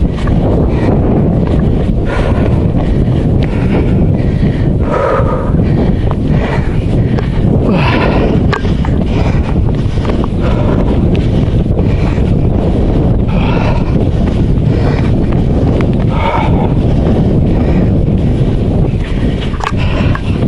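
Strong headwind buffets the microphone during a fell run up Winder near Sedbergh, a continuous loud low roar with gusting swells throughout and no talk.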